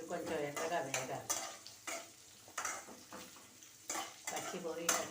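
Potato and pointed gourd (parwal) curry frying in a pan, with a steady close sizzle broken by repeated bursts of spoon-against-pan stirring and scraping; no talk.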